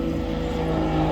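A steady, droning propeller-engine roar from aerobatic planes trailing smoke at a sunset night air show in Méaulte, continuous and fairly loud with no voices.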